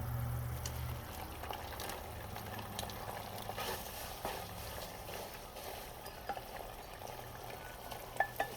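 Ramen noodles with brown sugar sizzle and fry steadily in a hot pan while being stirred, a soft continuous crackle with occasional scraping clicks, moderately quiet and without talk.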